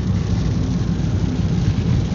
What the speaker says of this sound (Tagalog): maulan na talaga, lakas na ng ulan